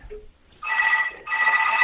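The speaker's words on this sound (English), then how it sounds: "My other phone is ringing, and I'm trying to shut it up." A telephone rings loudly in two bursts of electronic bell-like tone, each lasting under a second with a brief gap between, heard alone without talk.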